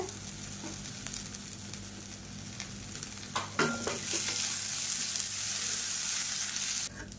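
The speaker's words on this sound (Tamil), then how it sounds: "இப்போ வெங்காயம் நல்லா வதங்கிட்டு இருக்கு" Steady, crackling sizzle of onions frying in a pan, with a few scrapes and clinks from stirring partway through.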